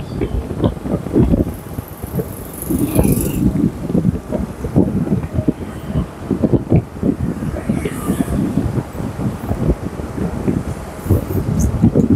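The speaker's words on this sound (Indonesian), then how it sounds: "Sudah mulai diramaikan kendaraan baik roda 2 maupun roda 4" Steady morning road traffic of motorbikes and cars on Jalan Tasnim in Makassar, a continuous rumble of passing engines with some wind buffeting the microphone, close and fairly loud throughout.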